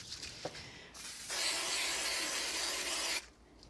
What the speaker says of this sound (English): I'm just going to spray some spray adhesive on this.